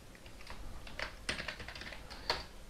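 Soft keystrokes on a computer keyboard tap out code at an uneven pace, close but quiet, with a few sharper clicks among the lighter presses.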